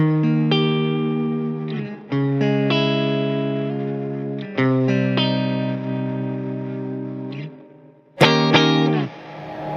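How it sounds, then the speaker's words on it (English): Distorted guitar chords through a Mooer Ocean Machine pedal's distorted reverb ring out one after another, each swelling into a long, gritty reverb wash that slowly decays before the next strum. "So we've got a distorted reverb."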